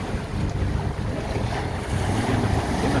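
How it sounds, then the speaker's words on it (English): A sailing yacht runs downwind through waves, with steady rushing water and heavy wind buffeting the microphone, loud and close. "Getting a few decent waves today, she's not bad. We're running downwind."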